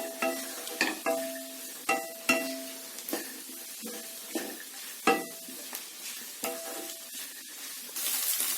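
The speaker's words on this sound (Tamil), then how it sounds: "ஸ்டவ் ஹைலியே வச்சு ஒரு 2 நிமிஷத்துக்கு இதை நல்லா வறுத்துக்கோங்க." Mixed vegetables with egg stir-fry in a pan on high heat, with repeated metallic spatula clanks and scrapes over a light, continuous sizzle. A louder burst of hiss comes at the end.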